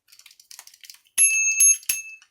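Bright electronic bell dings for a subscribe reminder, a few sharp chimes with ringing tones that follow a run of quick, soft clicking sounds, loud and up front with no talk.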